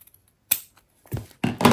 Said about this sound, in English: we're going to cut on that line. And actually, I don't even have to use my cutter.